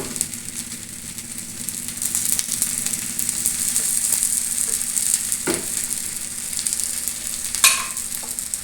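Oil sizzling on a hot griddle beneath a corn flour vegetable talipattu, a steady close crackling fry that runs throughout with a few brief sharper scrapes near the middle and the end.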